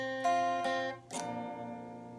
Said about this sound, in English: to play the piano riff, you just want to play the bottom two strings up and down